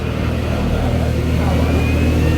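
A Porsche race car engine roars loud and close at the Spa-Francorchamps 24-hour race, a continuous heavy drone with its pitch shifting gradually.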